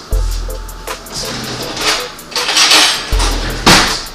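A fork pokes and scrapes at a baked green apple gourd in a baking dish, with a series of close metallic clinks and knocks against the dish over a low background hum.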